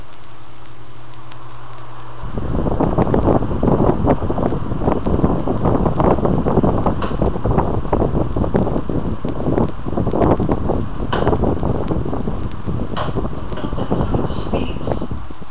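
Cheap all-plastic Lasco table fan clicked onto high speed, jumping from a low hum to a loud, steady, rattly whoosh of air buffeting close to the microphone, with faint ticks and clatters from the flimsy housing.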